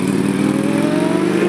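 A Ducati motorcycle at an Arizona car show, its engine loud and close in a steady, rough, mid-pitched rev with a slowly rising tone over a second and a half.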